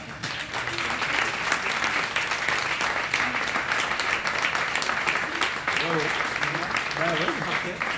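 Sustained audience applause at a Fête nationale press conference, a dense steady wash of clapping lasting throughout, with faint voices surfacing near the end.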